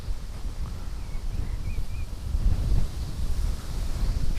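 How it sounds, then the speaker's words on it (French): Strong wind on a river in Ireland roars against the microphone in low, gusting rumbles that rise and fall. Faint water or rustling sits underneath. "Il y a un vent."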